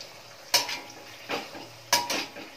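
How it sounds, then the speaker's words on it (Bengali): Paneer paratha fries in hot oil in a pan, with a soft, continuous sizzle broken by a few sharp metallic clinks and scrapes of a utensil against the pan. "প্রথম পরোটাটা দেখো দিয়ে দিলাম তেলে। আমি এটা ছাকা তেলেই ভাজছি।"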